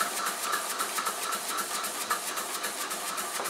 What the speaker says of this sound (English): It's getting warmed up, the engine is,